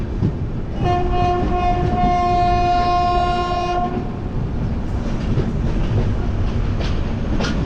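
The Kamrup Express, running Howrah to Dibrugarh, pulls into a station: a loud, sustained horn blast of about three seconds rises over a constant heavy rumble and rail clatter that continues after the horn ends.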